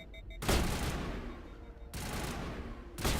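Loud, rapid bursts of energy weapon fire in Mass Effect 1 come in three long volleys separated by brief gaps, dense and close, with no talk over them.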